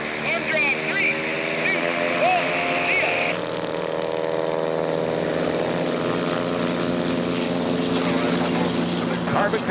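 Propeller aircraft engines droning steadily at an air race, a Carbon Cub racing a 182 with a reversible pitch propeller, loud and continuous with a commentator talking over it.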